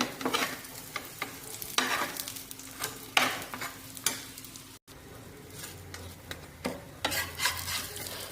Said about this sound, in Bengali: পরোটা বানিয়ে নিয়েছি, এখন ভাজার পালা